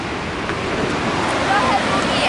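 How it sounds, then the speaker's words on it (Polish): A steady, loud rush of falling water roars continuously, mixed with wind buffeting the microphone. "Długi wodospad."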